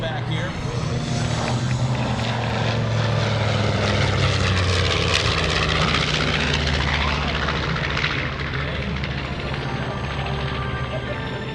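The propeller engines of a North American B-25 Mitchell bomber taxiing at an air show drone loudly and steadily nearby, a deep rumbling hum throughout, with a voice speaking briefly over the noise.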